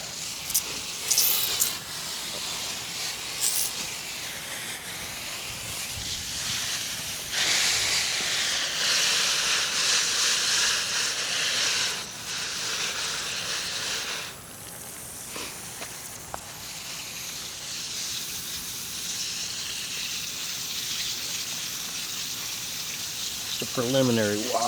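Harvested Brussels sprouts being rinsed under a running tap, a steady hissing rush of water with shifting surges as the sprouts are moved through the stream, and someone speaking at moments over it.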